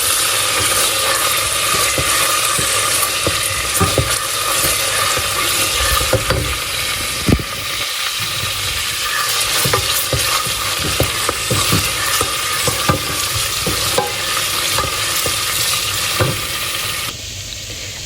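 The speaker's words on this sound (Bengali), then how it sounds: "আদা কুচিটাকেও ভেজে নিব।" Chopped ginger fries in a pan for Sylheti akhni pulao, giving a loud, steady sizzle and crackle throughout, with occasional sharp scrapes and clinks of stirring.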